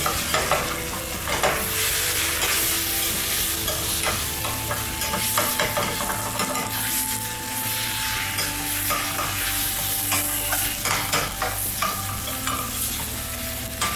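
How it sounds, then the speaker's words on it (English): Grilled cheese filling is stirred and scraped in a hot pan, with busy spatula scraping over a loud, constant sizzle close up and no voices. "Use that liquid to scrape up the deliciousness out of the pan where we can."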